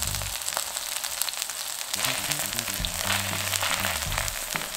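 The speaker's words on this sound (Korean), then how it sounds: "앞뒤로 노릇하게 익히시면 버섯이 좀 작아집니다" King oyster mushrooms fry in plenty of oil in a pan, a close, steady sizzle and crackle that swells slightly partway through, with no voices over it.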